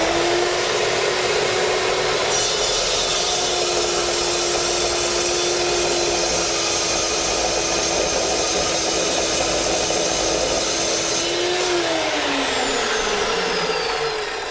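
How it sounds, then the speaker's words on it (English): A power saw cuts aluminum lubricated with WD-40, giving a loud, steady whine that runs unbroken for about fourteen seconds. Near the end the pitch drops as the blade slows, and no one speaks. "a little WD-40 results in a fairly nice cut on aluminum"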